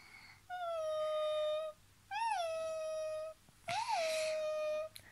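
A human voice imitates a little dog crying, making three drawn-out, tonal whimpering wails with brief pauses between them. Each starts with a rising catch, and the last sounds most strained. Close and fairly loud, no other talk.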